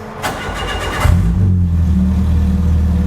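An engine cranks and catches with a sudden roar, then settles into a loud, steady rumbling idle close by.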